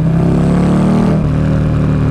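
2009 Buell Lightning Long XB12SS motorcycle engine on a test ride, a loud close low rumble that rises slightly and then settles, with wind noise.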